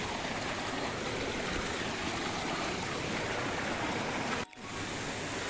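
A waterfall in Bulacan roars as a dense, steady rush of water that fills the air, loud and unbroken apart from a brief dip near the end.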